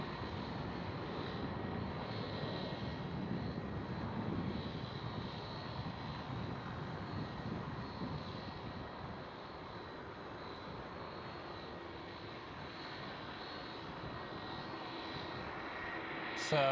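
A Qatar Cargo Boeing 777 in special livery moves on the runway at Amsterdam Schiphol, its engines a faint, distant, even jet rumble that softens slightly midway, with no one talking.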